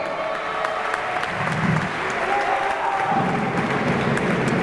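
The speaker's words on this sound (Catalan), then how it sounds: "Un aplaudiment." Sustained applause from the crowd at a Catalan junior men's basketball championship final in Manresa, steady and moderately loud with a faint murmur of the audience underneath.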